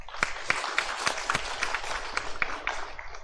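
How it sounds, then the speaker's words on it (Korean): A church congregation applauds the choir after its hymn at a Sunday afternoon worship service, a dense, steady clapping from a sizeable crowd close by, with sharper individual claps standing out over the full length. "우리 살롬 찬양대에 우리 감사와 축복의 박수 보내시겠습니다"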